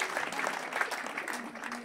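A church crowd applauds a Christian Union youth choir, with fairly faint, brisk clapping under a murmur of voices that lasts about two seconds.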